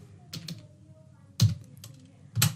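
Keys on a computer keyboard clack in a few sparse, close taps and small clusters, with quiet pauses between the keystrokes.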